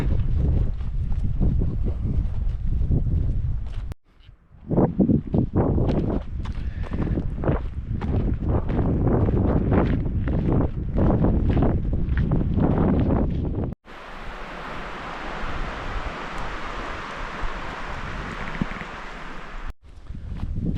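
Strong wind roars and buffets the microphone continuously on a mountain summit, gusting in heavy bursts with a steady rushing hiss and no voices.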